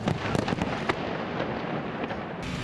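Fireworks go off at a holiday festival in an ethnic Korean village in Yanbian, with a dense run of crackling bursts and sharp pops over a continuous roaring rumble, loud and close.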